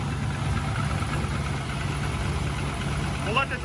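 An LS-swapped Mazda Miata engine idles with a steady low rumble and a faint whine, close by and uninterrupted, with a voice speaking over it.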